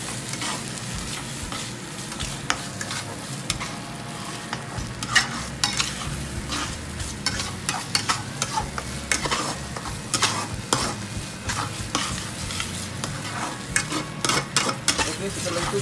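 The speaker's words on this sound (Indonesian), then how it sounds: "lalu setelah itu kita akan aduk lagi" Egg mixture is stirred in a hot pan, a steady sizzle of frying running throughout with scraping stir strokes close by.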